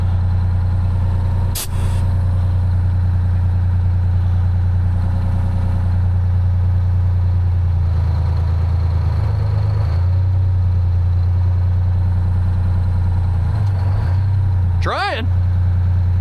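A 1975 Peterbilt heavy haul truck with a V12 two-stroke diesel runs in gear with a loud, deep, steady drone, with a sharp click early on and a brief squeal near the end; a person speaks briefly over it.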